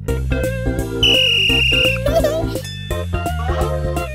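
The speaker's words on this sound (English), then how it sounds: "He has a whistle" A cartoon character blows a whistle in the Pocoyo animated series, one sustained shrill tone lasting about a second over bright, bouncy background music.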